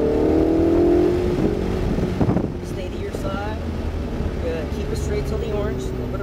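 A car's engine revs hard during a track drive in a Ferrari, loud and rising at first, then a sustained engine drone with heavy wind noise buffeting the microphone throughout.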